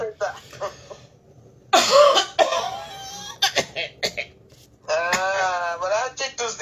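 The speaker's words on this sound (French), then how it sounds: "Voilà, tu tousses déjà." A person coughs in rough, hoarse bursts near the microphone, with others talking before and between them.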